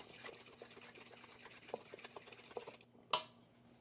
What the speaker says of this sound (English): I'm gonna break up these eggs and sugar, kind of dissolve everything together